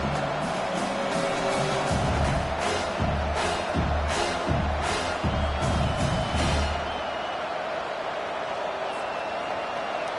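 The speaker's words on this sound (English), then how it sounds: "This crowd, full throat, splitting the eardrums and letting them know it's going to be a long day." A college football stadium crowd roars continuously at a Nebraska game, a dense, loud wash of cheering with rhythmic swells and thumps, heard at a distance under commentary.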